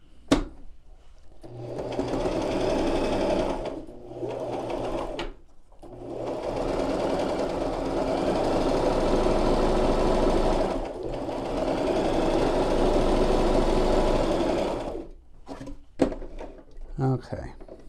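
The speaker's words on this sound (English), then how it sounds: "Now I'm going to run a seam at the top here." A sewing machine stitches a seam across the top of a cloth face mask, whirring in long close runs with brief pauses between them, while a voice talks over parts of it.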